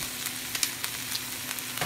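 Green beans fry in a pan with salt and green onion, a soft steady sizzle with a few light stirring scrapes, no voices.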